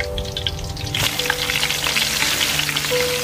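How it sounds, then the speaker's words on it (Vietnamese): Large climbing perch fish dropped into a pan of hot oil with golden fried garlic, a loud continuous sizzle and crackle that surges after the first second and holds steady, with a low hum underneath. "Giờ tỏi vàng là mình sẽ cho những con cá bự được chiên trước."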